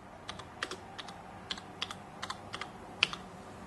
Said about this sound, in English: Set the cursor for the text and write now my text.